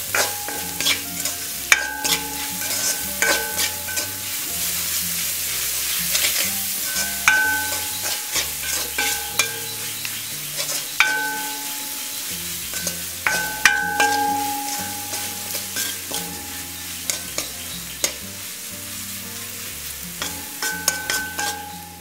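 Chickpea kottu with carrot, pepper and salt is stirred and tossed on a hot pan, making repeated scraping clatters over a steady sizzle, with background music playing throughout.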